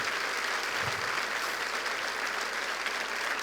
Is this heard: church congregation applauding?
yes